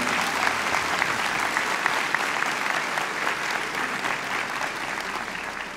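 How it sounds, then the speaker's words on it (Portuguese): Sustained applause from a church congregation at a morning service, steady dense clapping that fills the whole stretch without letup. "Quem pode aplaudir o nome do Senhor Jesus Cristo hoje de manhã?"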